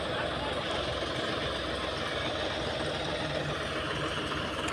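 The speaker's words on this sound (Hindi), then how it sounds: "इतनी उस ट्रैक्टर में जान है कि वो खाली बहुत मुश्किल से निकल रहा है।" A tractor engine idles while the tractor is stuck in a field, giving a steady low rumbling drone that stays constant throughout at moderate distance, with no clear speech.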